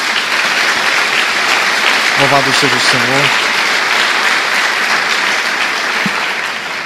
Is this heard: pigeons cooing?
no